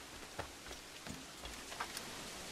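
Steady rain hiss in the video game Assassin's Creed IV Black Flag fills the scene, with scattered light ticks of drops landing on surfaces; no voices.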